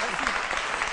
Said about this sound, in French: On continue de l'applaudir pour lui dire au revoir.